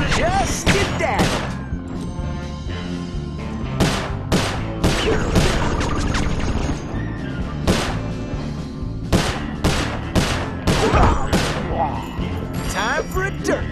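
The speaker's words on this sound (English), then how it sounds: "Looks like you're gonna have to shoot your way out, Tennessee." Gunshots in a Sly Cooper: Thieves in Time shootout, loud sharp cracks in irregular bursts mixed with thuds and impacts, under game music and character talk.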